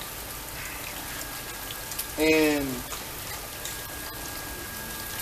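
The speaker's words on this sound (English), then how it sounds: "So, it's raining right now, right?" Steady rain falls in a continuous broadband hiss throughout, with a brief voice speaking once in the middle.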